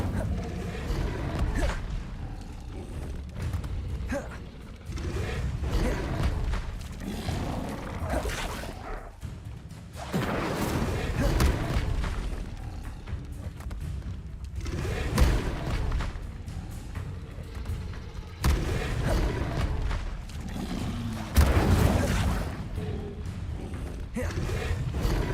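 Fire spells cast in the Hogwarts Legacy video game burst out in repeated booming, crackling blasts every few seconds, loud and close, over a continuous rumbling game soundscape.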